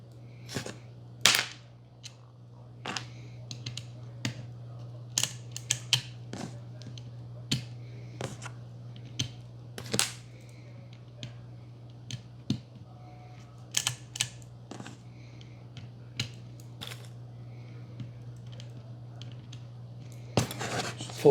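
Pellets being pushed one by one into the magazine of a Huben GK1 PCP pistol, producing sharp close clicks in small irregular groups over a faint steady hum.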